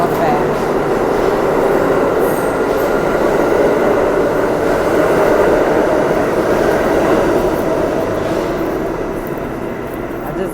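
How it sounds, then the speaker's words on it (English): A train at a station gives a loud, steady rumbling roar that fills the whole stretch and fades slightly toward the end, with no talking. "got off the train, but I got off at"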